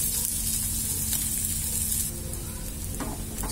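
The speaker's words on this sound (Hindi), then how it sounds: "3 से 4 मिनट के लिए भूनेंगे" Onion and capsicum frying in a pan, a loud continuous hissing sizzle that eases slightly partway through, with a faint utensil tap near the end and no talking.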